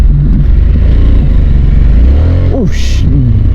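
A Harley-Davidson Sportster S motorcycle engine runs in sport mode during a ride, a loud close rumbling drone with a brief rev rising and falling, heard amid wind noise.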